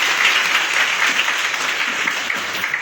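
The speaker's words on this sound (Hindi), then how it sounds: "ताली बजा दीजिए" Audience in a seated hall clapping together at a presenter's request, a dense, steady round of applause throughout with no one speaking.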